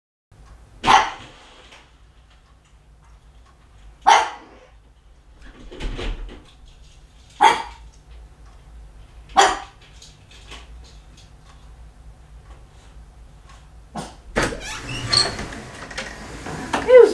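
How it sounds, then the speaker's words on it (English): A dog barks indoors, with single sharp barks spaced a few seconds apart in a quiet room, followed by a cluster of thuds and rustling movement near the end. "Who's barking?"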